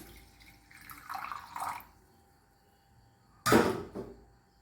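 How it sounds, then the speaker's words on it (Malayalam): Half a cup of plain water is poured into a clay cooking pot for beetroot koottaan, heard as a short gurgling splash followed by a second brief, louder pour near the end, quiet in between and no talking. "ഒരു 1/2 കപ്പ് വെള്ളം, പച്ചവെള്ളം ഒഴിക്കും."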